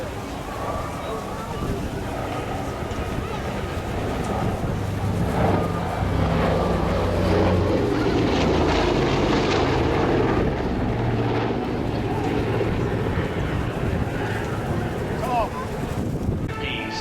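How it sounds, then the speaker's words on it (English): A Lockheed Super Constellation propeller airliner takes off at an air show, its engines making a loud, continuous droning roar that rises and holds steady throughout, with a voice talking over it. "as we watch the Super Constellation take off and turn for fantastic engines once"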